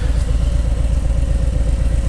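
Harley-Davidson Road King motorcycle on the move, its engine throbbing in a steady, loud low rumble with a continuous pulsing beat that stays close throughout.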